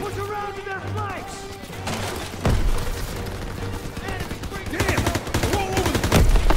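Machine gun fire in the World War II shooter Call of Duty WWII, with rapid bursts and a heavy impact mixed into a dense battle soundscape while game characters shout.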